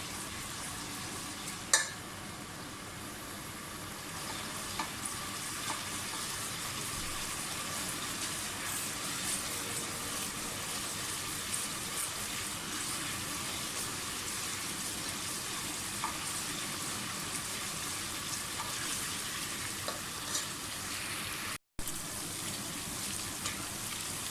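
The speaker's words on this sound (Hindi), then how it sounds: "लहसुन अदरक जो है वो अच्छी तरह से भून के खुशबू से आने लग गई।" Garlic and ginger fry in a pan for a degi-style chicken qorma, giving a continuous soft sizzle that holds steady and fairly faint. An occasional utensil tap and one brief dropout break it.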